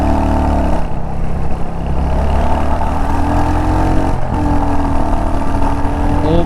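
A 2022 Royal Enfield Hunter 350 motorcycle runs with the throttle held open in third and fourth gear, a loud, deep, steady engine drone that shifts in pitch around a gear change, heard up close from the bike.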